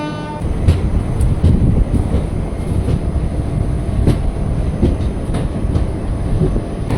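A train rolls into New Jalpaiguri railway station at night with a dense, steady rumble and faint rhythmic clatter of carriages, heard close and continuous without talk.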